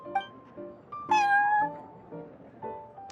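A cat in the video game Genshin Impact meows repeatedly, several short calls and one longer drawn-out meow, clear and close with no talking.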